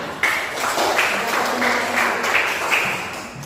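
Children clapping together in a classroom on a teacher's cue, a rhythmic group clap with repeated bursts in a steady pattern and faint voices underneath.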